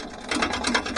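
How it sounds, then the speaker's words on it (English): Bowl gouge chattering against the edge of a natural-edge birch bowl on a lathe, a rapid buzzing, pulsing rattle at close range, brief and without talk. "I'm getting quite a lot of chatter from the edges where there's a lot of fresh air"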